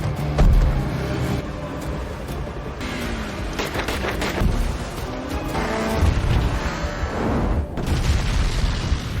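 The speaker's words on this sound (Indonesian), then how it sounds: "Kapal Jack terbalik dan meledak" Loud booming blast of a capsized boat exploding, with crashing, crackling debris and rumbling chaos, several heavy impacts rolling on for seconds.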